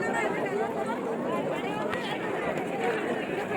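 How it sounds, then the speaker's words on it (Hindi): A dense crowd chatters at the busy Taj Mahal entry gate: many overlapping voices form a steady, close babble throughout, with no single voice standing out. "यहाँ पे आप देख सकते हो कितना भीड़ है, बहुत भीड़ है इधर"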